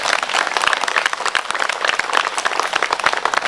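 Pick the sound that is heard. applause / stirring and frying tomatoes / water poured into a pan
applause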